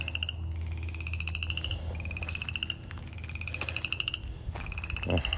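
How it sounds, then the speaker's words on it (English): Frogs croak in rapid, rhythmic trills that repeat in bursts from water puddles, fairly close and clear over a low outdoor hum. "We got frogs already."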